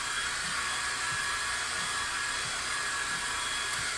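A hair dryer blowing hot air to dry a layer of black paint, a steady loud whirring drone held unbroken for the whole stretch with no talk.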